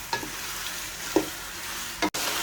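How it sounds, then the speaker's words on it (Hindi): Chicken frying in oil with onions for Sindhi biryani, a steady close sizzle punctuated by a few brief stirring clanks and a sudden cutoff near the end. "चिकन को हमने ऑयल और प्याज के अंदर तब तक फ्राई करना है"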